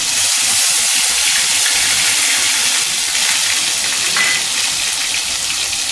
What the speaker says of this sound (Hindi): तेल गरम हो गया। अभी हम ये प्याज, पिसा हुआ प्याज डालेंगे।